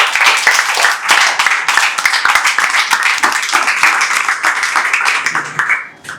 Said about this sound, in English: We have clap for Dipanshu.